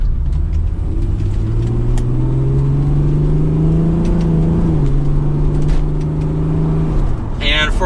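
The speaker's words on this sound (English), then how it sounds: "So let's give it a little bit of gas now" A 1996 Acura NSX engine pulls under acceleration, a loud rising and falling engine drone heard from inside the car that climbs through several seconds and drops near the end.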